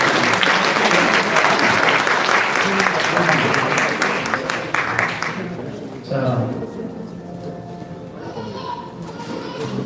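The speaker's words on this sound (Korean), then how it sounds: "박수로 건네주십시오" Loud applause from the audience at a Korean church awards ceremony in a hotel ballroom, dense and steady at first, then thinning out midway as a voice begins speaking over the fading claps.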